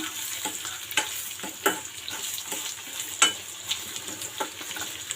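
Onions frying in a pan are stirred, with a steady sizzle broken by several sharp scrapes and clacks of the spoon against the pan, close and alone.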